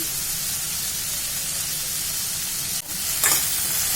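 Salted eggplant pieces being stirred in a frying pan, a steady close sizzle with scraping strokes and a brief dip and hiss near the end.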